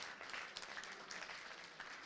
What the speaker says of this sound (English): Let's give an applause to Colin for your fantastic job.